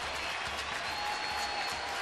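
Giants fans in a crowded ballpark during a San Francisco at Oakland baseball game, applauding steadily from a distance, a dense continuous patter without distinct voices.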